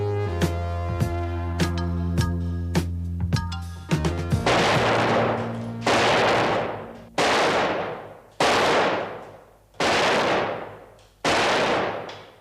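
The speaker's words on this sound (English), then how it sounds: "Where'd you learn to shoot like that, Tommy?" Gunshots ring out in a TV drama. Several sharp single shots come first, then a run of six heavy, evenly spaced blasts with long echoing decays.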